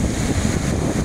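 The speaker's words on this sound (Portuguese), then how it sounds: "como o vento está um pouco forte, o mar está um pouco mexido mesmo" Strong wind buffeting a microphone at Praia dos Ingleses beach in Florianópolis, with a choppy sea, a dense continuous rumbling roar filling the short moment with no talk.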